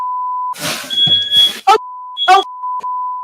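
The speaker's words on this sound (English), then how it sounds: "She's causing so much smoke, she sets off the fire alarm in her building." A smoke alarm in an apartment building beeps with a steady high electronic tone, set off by cooking smoke. Loud bursts of a voice and other noise break in over the beeping.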